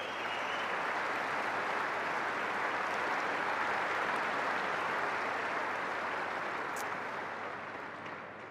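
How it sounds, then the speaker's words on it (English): Sustained applause from a tennis match audience honouring the chair umpire, dense and steady clapping throughout that tapers slightly at the end, with no voices rising above it. "Let's give her a round of applause."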